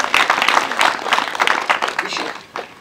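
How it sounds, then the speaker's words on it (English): An audience at a gathering in Mbarara, where a bishop and dignitaries are honoured, claps hands in a dense, steady patter of many palms, fairly loud and continuous, with voices mixed in. "I want you to clap hands."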